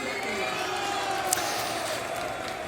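A large esports crowd at a Counter-Strike tournament cheers in a steady, dense roar that fills the arena, with no clear breaks in the noise.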